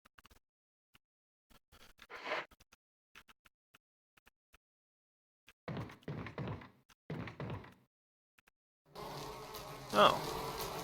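Bees buzz in the Resident Evil video game, a faint, fluttering drone that comes in scattered bursts among quiet gaps before swelling into a louder, steady hum at the end.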